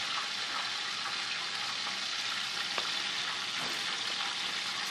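Steady sizzle of food frying in olive oil in a hot pan for a mushroom salad, a dense, even hiss held at one level throughout, with a few faint crackles and no talk.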